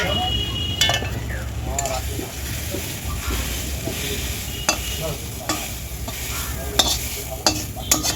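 Fried water spinach tipped out of a wok, a sizzling stir with scraping clatters and a few sharp metallic knocks, close and continuous with no talking.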